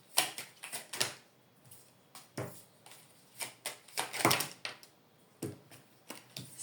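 Tarot cards being shuffled by hand, a series of close, crisp riffling and slapping bursts at irregular intervals, with short quiet gaps between them.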